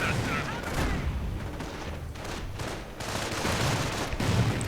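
Grenades and butterfly bombs go off in a World War II real-time strategy game, a dense, continuous barrage of booms and gunfire.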